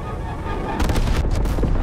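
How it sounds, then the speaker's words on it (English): A napalm strike in the video game Call of Duty Black Ops Cold War, a quiet rumbling backdrop giving way to a burst of loud crackling blasts and explosive booms. "Enemy napalm strike incoming."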